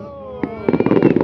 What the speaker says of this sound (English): Those are my favorite kind of fireworks right there.